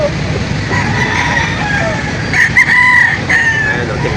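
Brahma chickens crowing and clucking at the Lipa auction market, a rooster's crow rising over steady clucking and low market bustle, close and fairly loud.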